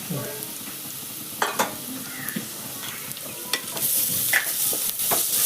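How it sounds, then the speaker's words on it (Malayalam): Steady sizzling of salted onions frying in a pan, with occasional scraping stirs from a utensil, close and continuous throughout. "ഉള്ളി ഇങ്ങനെ വാടി കൊടുക്കട്ടെ"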